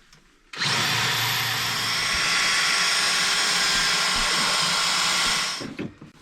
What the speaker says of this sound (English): You actually have to drill through the actual rails to fit the fish plates.